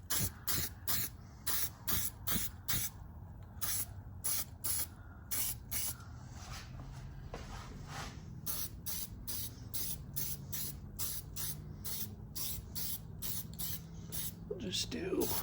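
Battleship Gray coating is sprayed around a drain on a rusty Fox-body Mustang floor, starting as many short hissing bursts and then becoming longer, steadier hiss, close by.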